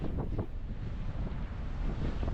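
Strong wind buffets the microphone on the open top deck of a passenger ship sailing from Lombok toward Surabaya and Nabire as rain approaches, a continuous loud roaring rush with gusty bursts and no talk.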